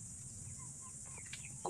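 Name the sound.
hens clucking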